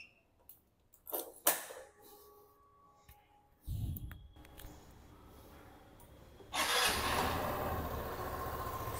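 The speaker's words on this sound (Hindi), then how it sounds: "सो चलो स्कूटी को करते स्टार्ट एंड गाइस आप लोगों को एग्जॉस्ट नोट चेकआउट करवाता हूँ।" A 2024 Hero Xoom Xtec Combat Edition scooter starts up after a few quiet clicks and handling noises. A short low burst comes first, then the engine catches and settles into a steady, fairly loud idle exhaust note.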